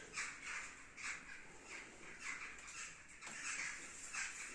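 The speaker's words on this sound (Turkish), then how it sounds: "Kargalar bu mamayı bekliyor." Crows gather and caw while waiting for food, a steady run of harsh repeated calls from several birds at a moderate distance, fairly faint with no voices.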